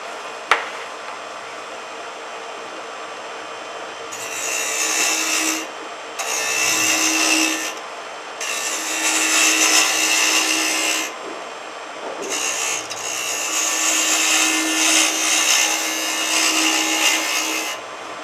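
Woodturning gouge cutting wood on a lathe while shaping a pepper mill, heard as a steady rasping, scraping hiss over a low motor hum, coming in several sustained passes with short pauses between them.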